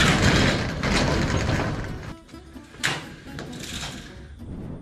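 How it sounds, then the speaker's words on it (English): A garage door is raised, giving a loud mechanical rattle and ratcheting grind that pauses briefly partway, then resumes with clanks and a fading rolling noise. "I'm going to go ahead and open up my garage door."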